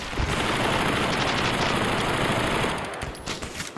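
Rapid automatic gunfire in a VR shooter game, a dense continuous burst of shots loud and close, easing off slightly near the end.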